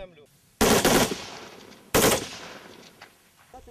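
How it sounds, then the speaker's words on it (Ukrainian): Gunfire rings out during military shooting training at a range, with two loud, close bursts of rapid shots that each decay into a rolling echo, separated by a short pause and followed by faint distant sounds. "Останній етап тренувань стрільба. Солдати опановують різні види зброї."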